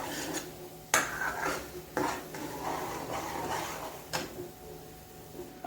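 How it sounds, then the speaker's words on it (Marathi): Masala sautéed in oil in a pot, a spoon scraping and knocking against the metal in repeated strokes with a few sharper clanks, close and quiet, without talk. "आता मी हे 4-5 मिनटं असंच परतून घेते"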